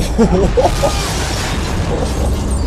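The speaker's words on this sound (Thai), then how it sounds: "โอ้มึงระเบิดรุนแรงไปไหมเนี่ย" A deep rumbling blast with low booming debris noise fills the scene in the video game Dead Space 2, while a voice briefly exclaims near the start.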